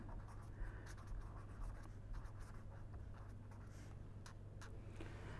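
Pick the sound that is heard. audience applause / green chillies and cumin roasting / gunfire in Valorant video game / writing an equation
writing an equation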